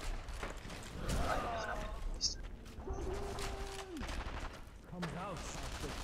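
Scattered gunfire in the war shooter game Sniper Elite V2, moderately loud bursts mixed with game sound effects and people talking over the top.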